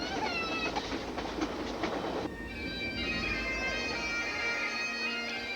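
A passenger train on a cross-Canada journey pulls into Banff station, with steady rail rumble and clattering wheels that fade into a quieter hum and high brake squeal as the cars slow.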